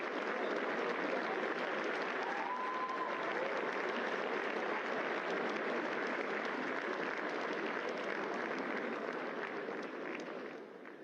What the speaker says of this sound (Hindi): तालियों की गड़गड़ाहट से स्वागत करें।